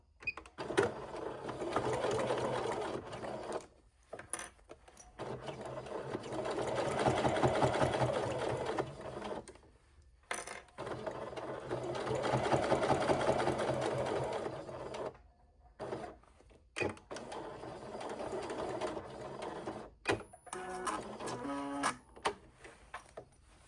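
A sewing machine stitches a quarter-inch seam on a Sew Together Bag in several sustained runs of rapid rhythmic whirring, with brief pauses and short backstitch bursts near the end, close and fairly quiet.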